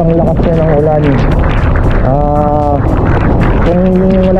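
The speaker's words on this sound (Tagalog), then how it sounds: "ingat po, sobrang lakas na ng ulan." Heavy typhoon rain and gusting wind make a loud, unbroken roar outdoors, with someone speaking over the noise throughout.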